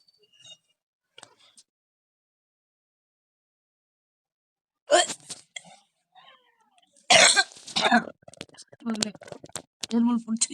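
Several loud coughs come in bursts after a quiet stretch, with a few faint clicks and some throat noise between them.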